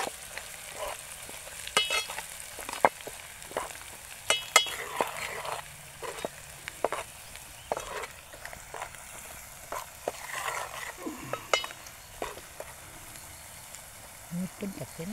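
Onions frying with red masala in a pan, a steady sizzle broken by repeated scraping stirs and light clinks of a spoon against the pot, with people talking now and then.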